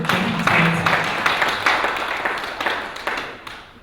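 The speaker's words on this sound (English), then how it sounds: "So clap hands for me for turning" An audience at an international organisational development conference claps hands together, a dense, steady round of applause that gradually thins and fades toward the end.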